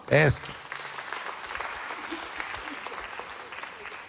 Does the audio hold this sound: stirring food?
no